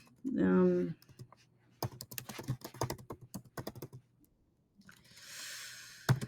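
Rapid keystrokes on a computer keyboard clatter up close in uneven bursts, with a breathy vocal sound before and a hissy noise near the end.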